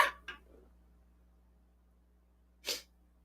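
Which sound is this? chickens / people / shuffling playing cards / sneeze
sneeze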